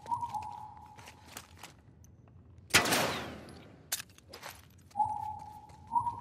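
Gunshots in The Last of Us Part II video game: one sharp, loud shot rings out mid-clip amid quieter ambient thumps and faint tones, with no talking.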